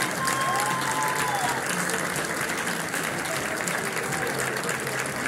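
Crowd applause for a football coach at a regional cup final in Kavala, Greece, dense sustained clapping from many hands, fairly loud, with a voice over the loudspeaker audible above it.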